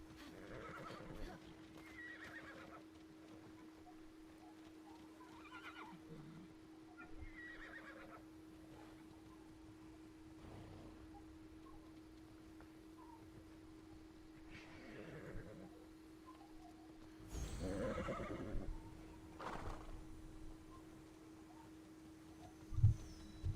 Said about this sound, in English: I just got myself a new horsey.